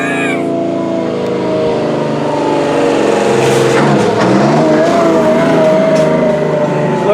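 A dump truck driving down the road, its engine droning loud and steady with shifting pitch as it approaches and passes, a rising whine near the end, no voices.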